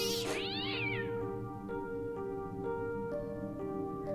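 A cat meows in the video game Fran Bow, with one loud, rising and falling cry near the start, followed by a quieter, steady tonal background with no talking.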